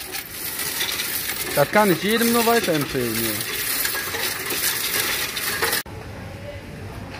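Coins rattle and clatter steadily through a Coinstar coin-counting machine in a supermarket, a continuous metallic rush that stops abruptly near the end, with someone talking over it.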